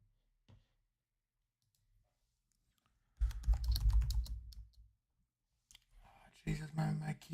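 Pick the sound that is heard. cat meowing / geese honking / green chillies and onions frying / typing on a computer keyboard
typing on a computer keyboard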